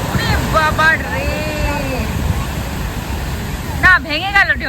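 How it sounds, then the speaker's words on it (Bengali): An ocean wave breaks on the shore with a broad, rushing wash of surf and wind under excited voices that talk over it in bursts. "না ভেঙে গেল, ঢেউটা ভেঙে গেল। উঠেছিল অনেকটা।"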